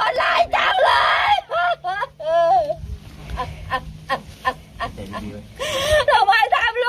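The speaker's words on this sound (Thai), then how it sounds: "นี่คือเสียงร้องไห้ของแม่" A mother wails and sobs in grief after her son's shooting, with high, shaking cries and gasping breaths in uneven bursts, close and loud, broken by short pauses.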